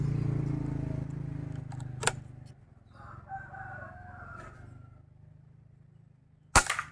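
A single sharp gunshot cracks near the start and another loud report snaps at the end, fired at a target, with quiet background sounds in between.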